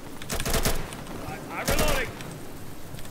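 Gunfire in the tactical shooter game Insurgency: two loud bursts of shots, one early and one about midway, with a crackling tail and voices talking over the noise between them.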